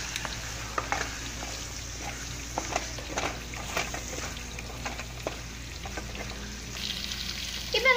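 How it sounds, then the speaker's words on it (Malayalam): Yogurt is stirred into sizzling chicken biryani masala in a pan, giving a steady frying hiss under repeated scraping and clacking strokes from the spoon, close and moderately loud. "ഇനി ഇതിലേക്ക് ഒരു കപ്പ് തൈര് ഇടണം. എന്നിട്ട് നല്ലതായിട്ടൊന്ന് ഇളക്കി"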